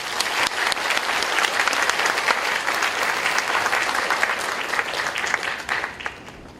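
Sustained applause from a university lecture audience after a political leader's special talk, dense and steady clapping throughout without pause.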